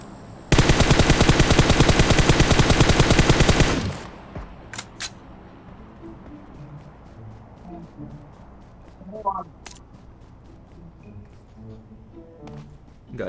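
A loud, rapid burst of automatic gunfire from above in a shooter video game, rattling continuously for about three seconds, then fading to quiet game ambience with a few faint shots and sparse background sounds.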